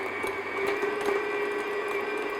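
Electric mixer beating cupcake batter at medium-low speed, a steady motor whine with a sustained tonal hum and faint rattling of beaters in the bowl, uninterrupted and close.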